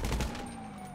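Burst of gunfire in a video game shootout, several rapid loud shots packed into the first moments and then fading into a lingering tail, no voices over it.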